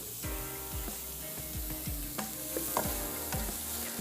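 Carrots sizzle in oil in a pan, a steady frying hiss broken by repeated scraping stir strokes at an irregular rhythm, close and fairly loud with no talk.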